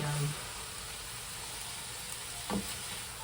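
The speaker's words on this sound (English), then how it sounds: "so we've got it frying pretty good" Burrito bowl filling sizzles steadily in a hot pan, a constant crackling hiss close by, with brief bits of a voice at the start and near the end.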